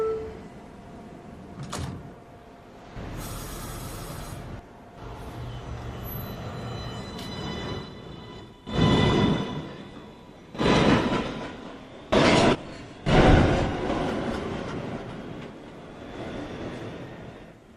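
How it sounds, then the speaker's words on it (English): A Manhattan-bound NYC Subway 1 train pulls out of an elevated automated station, with a steady rumble, several sharp door and rail bangs, and bursts of wheel noise rising and fading over about eighteen seconds. "This is a Manhattan-bound 1 train."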